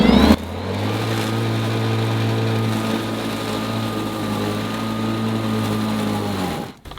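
DeWalt 2x18V 20-inch cordless lawn mower cutting grass, a loud, close steady electric motor whine with a humming drone that rises briefly at the start and cuts off abruptly near the end.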